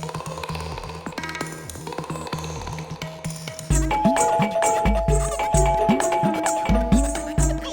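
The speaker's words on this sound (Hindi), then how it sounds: "फायर ब्रिगेड की घंटी की तरह क्या टनन टनन बेल बजा रहे हो" A household doorbell rung over and over in quick succession, loud metallic ringing tones with clattering strikes that grow stronger and more insistent partway through.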